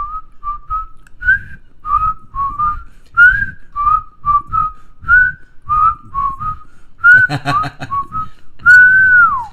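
Someone whistles a lively melody up close, a string of short bright notes that ends on a long sliding tone. Soft breathy thumps sound underneath.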